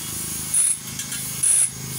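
Two short, bright metallic clicking bursts from a part being tightened while aligning a stock fan (pamaypay), close and distinct over a low steady hum.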